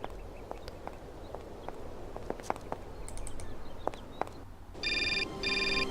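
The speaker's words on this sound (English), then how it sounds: "And another phone call." A telephone rings in the Syberia adventure game, its electronic trill repeating in two bursts near the end over quiet ambient game sounds and scattered footsteps.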